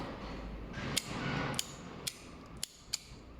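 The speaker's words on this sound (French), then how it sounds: "on a un briquet." A lighter being struck before lighting a pipe of Orlik Mellow Mixture tobacco, giving five or six sharp metallic clicks at irregular intervals, close and fairly quiet over a soft background hiss.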